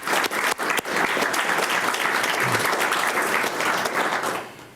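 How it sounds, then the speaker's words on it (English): A large audience at a Military Child of the Year award ceremony breaks into loud, sustained applause, a dense wash of clapping that holds steady for several seconds before tapering off at the end. "I think that deserves an round of applause"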